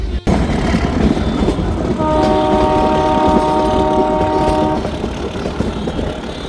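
A train rolls loudly along the rails near Deogarh, India, with a steady rumble, and a sustained horn-like tone sounds for a couple of seconds midway.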